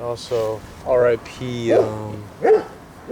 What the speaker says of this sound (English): My bad for the barking.